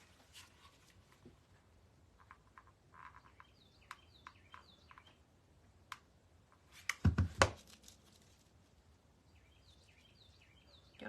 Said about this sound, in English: Y'all hear my little bird just singing?